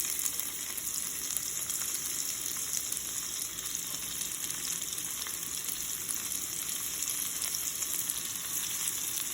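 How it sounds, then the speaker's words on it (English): Onions frying in a pan with oil while cooking Amritsari choley, a steady, even sizzle and crackle throughout, close and continuous with no talking. "As the onions are cooking down, you have to really caramelize them."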